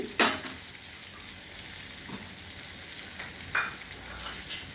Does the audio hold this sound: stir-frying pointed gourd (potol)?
yes